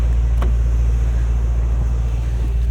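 A 2024 Mercedes-AMG GT 63 S E Performance 4-Door driving in eco mode early in the morning, a loud, steady low rumble of engine and road noise heard from inside the cabin.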